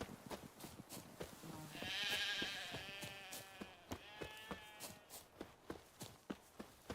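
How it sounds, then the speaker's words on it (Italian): Sheep in The Witcher 3 give one drawn-out bleat over steady footsteps crunching on the ground, the animal close and clear. "Pecora."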